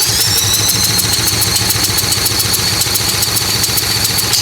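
A Toro SR4 mower engine cranks over steadily for a compression test, a loud, fast, even chugging that holds through the whole stretch without starting.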